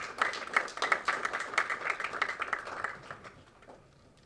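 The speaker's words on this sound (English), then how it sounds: "let's give a warm round of applause for Dr. Sudhir Parekh" Audience applause at a talk on dharma, dense and lively clapping that gradually thins and fades out over a few seconds.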